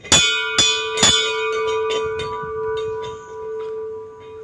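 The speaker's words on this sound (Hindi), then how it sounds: "सबसे पहले हम घंटी बजा लेते हैं।" A metal temple bell is struck three times in quick succession, ringing loud and close, then its tone hangs and slowly fades with a few softer strikes.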